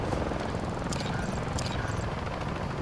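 Helicopter rotor and turbine in the video game Call of Duty: Modern Warfare 3 (2023), a steady loud broadband drone with faint high blade swishes, no talk.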